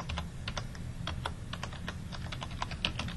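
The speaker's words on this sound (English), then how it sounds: "We can enter it by clicking on the keyboard." Steady keystrokes on a computer keyboard while entering project activities, a run of sharp, closely spaced clicks at a fairly even pace, heard alone over a low room hum.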